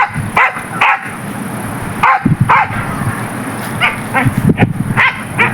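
A dog barks repeatedly in short, close, loud bursts with uneven pauses between them.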